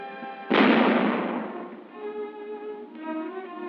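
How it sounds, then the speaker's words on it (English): A single loud, sharp blast from a pneumatic artillery simulator during 1956 US Army war games, followed by a long ringing decay and a low droning hum. "when the pneumatic gun position fires, it could be the real thing"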